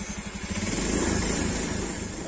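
A Honda Beat FI scooter engine revs from a steady idle into a sustained throttle blip, close and fairly loud, with no talking over it.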